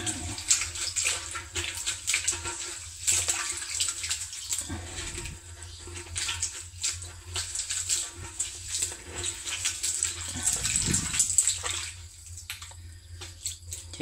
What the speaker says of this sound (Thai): เอาครับผมจะเทน้ำใส่ครับ